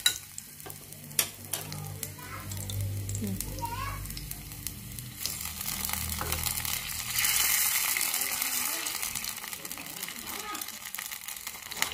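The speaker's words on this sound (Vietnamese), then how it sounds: "mình sẽ tắt bếp nha, mình sẽ cho nước mắm vào đây" Fish sauce poured into a pan of fragrant fried shallots after the stove is switched off, giving a steady sizzle and stirring scrape that swells partway through, with a voice talking over it.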